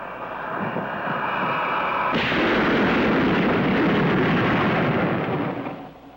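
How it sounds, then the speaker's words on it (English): A jet aircraft breaking the sound barrier: a loud, deep roaring rumble builds and then abruptly swells into a broad, thunderous blast that holds steady for several seconds before fading. "The sound barrier has been broken."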